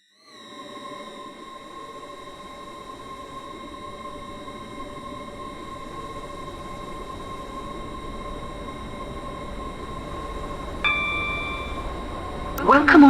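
A SE Class 801 Stepford Express train runs steadily in a video game, a continuous rumble with sustained tonal whine throughout, building slightly, with a brief chime near the end and a louder burst at the close.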